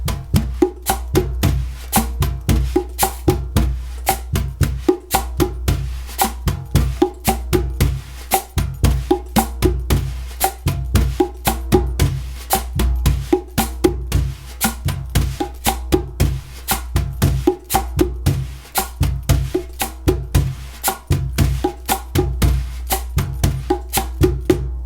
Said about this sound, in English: chick, boom, boom on pedal cajon and cabasa pedal.